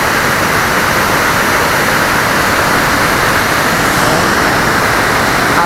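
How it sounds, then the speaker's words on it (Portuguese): A waterfall roars nearby as a steady, loud broadband rush of falling water, unbroken and even throughout with no voices. "Atrás de mim, uma cascata."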